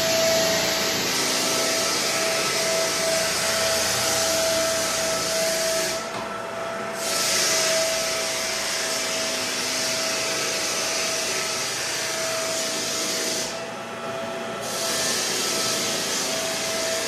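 A floor sander strips stain off red oak floors with a loud, continuous whirring drone that dips briefly twice before resuming.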